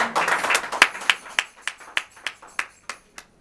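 A church congregation claps together, first in a dense burst of applause, then in slower single claps that thin out and fade over a few seconds.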